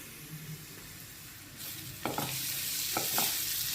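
Onions sizzle and fry with salt in a pan for chicken momo filling, a steady hiss broken by several sharp stirring scrapes near the end, close and moderately loud, with no voices.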